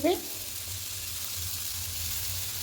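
Chopped, squeezed leafy greens frying in oil in a pan, a low, steady sizzle that stays even throughout, with faint bumps at the start and end.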